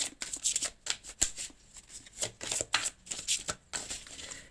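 Tarot cards are shuffled and drawn for a reading, giving a run of quick papery riffles and flicks in uneven bursts, close and fairly soft, with no talk.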